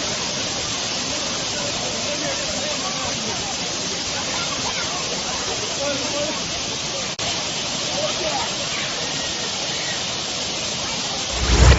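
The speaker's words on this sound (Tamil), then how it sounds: "சுருளி அருவி நீர்வரத்து பகுதிகளில் மிதமான சாரல் மழை பெய்து வருகிறது" Water rushing at Suruli waterfall during moderate drizzle, a steady, dense roar that stays even and continuous throughout with a brief dip midway and a slight swell at the very end.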